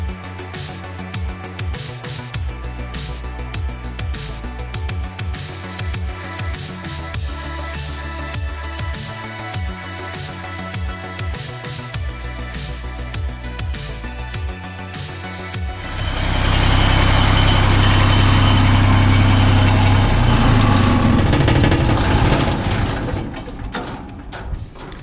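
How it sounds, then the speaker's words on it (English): An SA250 engine-driven welding machine runs under load with a steady, busy mechanical drone. The drone swells noticeably louder and fuller partway through and stays strong to the end, with no talking. "I'm gonna keep on welding"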